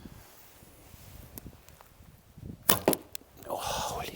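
A long arrow loosed from a Paragon Raider bow gives a sharp snap and thwack as it releases and strikes, set against faint outdoor rustling, followed by a brief burst of noise.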